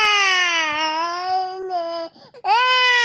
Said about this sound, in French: le petit bébé se mit alors à pleurer vraiment très fort.